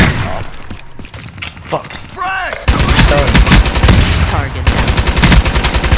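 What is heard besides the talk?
flying ship gunfire in Black Ops 3 video game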